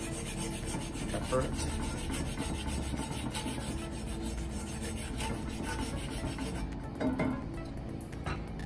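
Stuck egg residue scrubbed off a Lodge cast iron skillet: a steady, close, continuous rasping scrub that runs without pause, with no talking.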